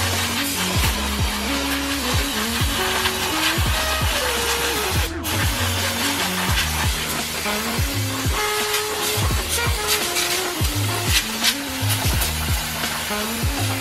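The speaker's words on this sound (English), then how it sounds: "we're going to take the brake parts cleaner and we're going to go ahead and hose this brake caliper down" Brake parts cleaner sprayed from an aerosol can onto a brake caliper, a steady hissing spray with intermittent mechanical tones and clicks underneath, lasting throughout.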